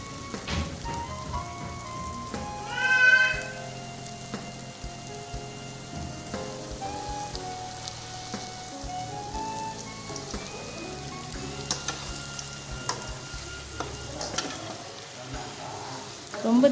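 Puris for pani puri frying in hot oil at a roadside stall, a steady crackling sizzle running throughout with faint clatter, while music-like tones play over it.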